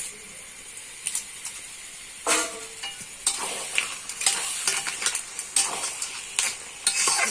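Jaggery goes into mango pickle in a pan, followed by steady stirring and a soft sizzle, with scraping bursts of the spoon against the pan growing busier toward the end.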